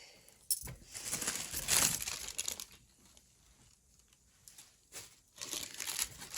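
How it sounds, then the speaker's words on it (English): A tissue paper napkin is crinkled and pressed down during a butterfly paint craft, producing several close, soft crumpling bursts separated by quiet pauses. "Oh, I lifted up the tissue paper, the napkin a little bit."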